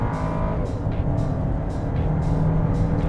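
A Volkswagen Teramont turbo engine pulls hard at full throttle in Sport mode, giving a steady, loud, sustained drone from inside the cabin, with no talk.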